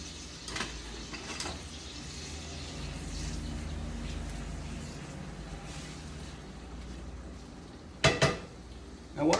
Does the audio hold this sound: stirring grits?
yes